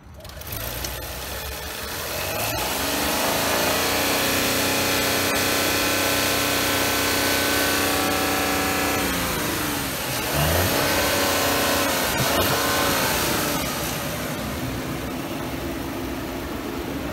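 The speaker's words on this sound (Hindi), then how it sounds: "तो ये थी 3000cc TFSI इंजन की साउंड।" An Audi Q8 55 TFSI quattro's 3.0-litre V6 engine idles, then revs up and holds a loud, smooth roar, drops briefly and revs again before settling back down.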